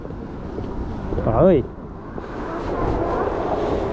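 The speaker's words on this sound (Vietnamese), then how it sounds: "Gió mạnh lắm." Strong wind buffets the microphone during an afternoon walk in Yokohama, Japan, a loud, constant rushing roar that swells toward the end, briefly crossed by a passing vehicle tone, while a voice exclaims.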